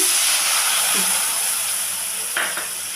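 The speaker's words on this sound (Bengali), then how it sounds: "আলুটাকে একটু লালচে করে ভেজে নিলাম" Potato pieces with salt and turmeric fry in hot oil, browning to a reddish colour, giving a continuous, even sizzle and hiss with a brief stir or clatter near the end.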